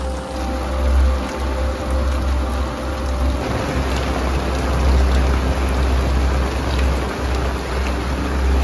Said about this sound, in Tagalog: Sa kabila ng napakalakas na ulan,